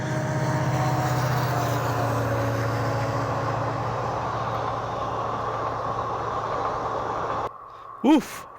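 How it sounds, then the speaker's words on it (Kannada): A train rumbles past close by with a steady low drone and clatter, then cuts off abruptly, followed by a brief rising whine. "ಟ್ರೈನ್ದು ಸೌಂಡ್ ಕೇಳಿಸ್ಕೊಂಡ್ರಲ್ಲ ಗುರು"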